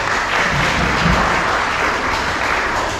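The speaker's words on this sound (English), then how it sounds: "Give her a big round of applause." Audience applause at a bird show at a theme park, a steady, loud wash of many hands clapping that fills the whole stretch without a break.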